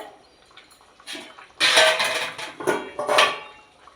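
A spoon stirs Bengali rui fish curry with potatoes in a pot, making several close clattering scrapes against the metal and wet sloshing in uneven bursts, with no voices.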